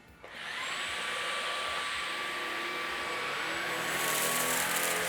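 A Shark Detect Pro cordless stick vacuum picking up 50 grams of scattered rice, its motor spinning up to a loud steady whine that holds and then rises in power near the end, heard close with no talking.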